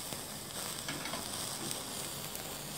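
Chicken pieces grill on a stovetop grill pan with a faint, even sizzle and soft crackle throughout, quiet and continuous with no voices.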